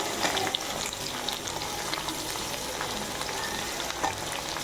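Raw plantain pieces fry in a pan for a dry fish curry, giving a steady, close, dense sizzle with no talking over it.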